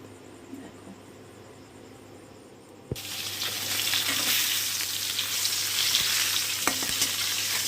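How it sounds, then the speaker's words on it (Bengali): Tilapia fish fries in a pan of oil. After a quiet start, a loud, crackling sizzle bursts in about midway and continues with small pops and spatters. "তো এখন এই তেলাপিয়া মাছটা ছেলের জন্য এটাই ভাজা করব, এই মাছটা ভাজা করব।"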